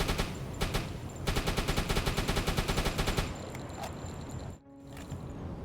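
Battleship guns in a naval video game firing high explosive rounds in a rapid, rhythmic barrage of loud shots for about three seconds, then a rumbling wash that drops out briefly and returns.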